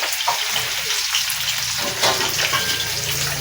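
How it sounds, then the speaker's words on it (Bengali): Potatoes frying in a pan for a vegetarian cabbage dish, a steady close sizzle that runs the whole time with faint bursts of spatter and scraping and no voices. "আলুটাকে ভালো করে ভেজে নেব"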